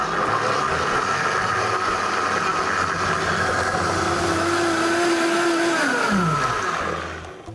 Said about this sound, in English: we're gonna toss all that into my blender and blend it up.